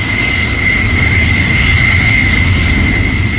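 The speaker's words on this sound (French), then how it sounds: "le Golden Rocket vole vers le golfe Persique, là où se trouve la base secrète." Golden Rocket aircraft in flight, a steady, loud airplane engine roar with a constant high whine, continuous and unbroken with no voices over it.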